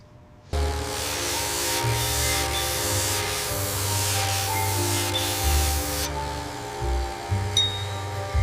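Spray gun laying primer onto a 1910 Oldsmobile body: a loud, close, continuous hiss starts abruptly, with a compressor drone pulsing underneath and a faint ping near the end.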